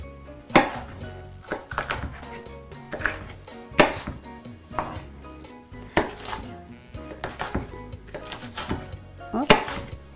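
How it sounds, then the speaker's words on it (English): A knife chopping peppers on a board, about a dozen sharp uneven cuts with small clatters in between, close and clear with no talking. "we're going to go ahead and start cutting up our vegetables"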